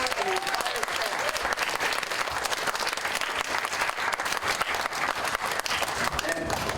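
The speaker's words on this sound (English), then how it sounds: "Let's have a round of applause for Laura and the entire" A crowd at a summer reading and exercise challenge event applauds for a reading program organizer and staff, dense and loud continuous clapping throughout, with faint voices mixed in.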